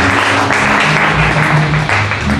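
A crowd applauds steadily at a Bible institute diploma ceremony, dense continuous clapping filling the room throughout with no pauses.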